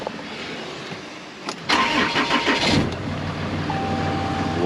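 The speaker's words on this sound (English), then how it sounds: "So let's see if it cranks." A truck in Mexico with a suspected weak battery cranks briefly with a short whir, then the engine fires up loudly and settles into a steady, rough idle that carries on alone to the end.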